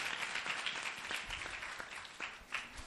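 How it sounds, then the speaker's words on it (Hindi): A church congregation claps together in a quiet, fairly distant spread of applause that carries on steadily, with a few louder claps toward the end. "आए खुदा के कलाम के लिए हम जोरदार तालियां बजा देंगे।"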